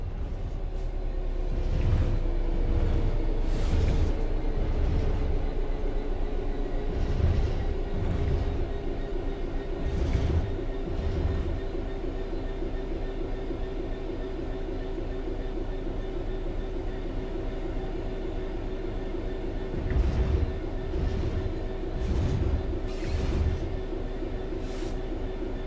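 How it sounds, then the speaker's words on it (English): A train in the Train Sim World 3 video game coasts on level ground, a steady rolling rumble with sustained tonal hum and rhythmic thumps of wheels over rail joints, slowing very gradually with no voices. "The train will then coast on level ground, and the train will only slow down very gradually."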